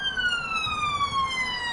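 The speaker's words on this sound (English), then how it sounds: "Police and ambulance." Police car and ambulance sirens wail loudly and continuously during a racing game broadcast, pitch gliding slowly downward as if passing by.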